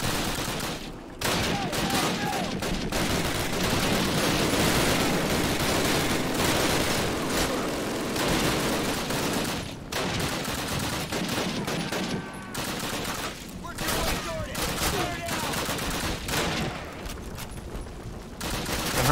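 MG42 machine gun fire in Call of Duty, dense sustained bursts of rapid shots over a loud battlefield din, with brief pauses between volleys.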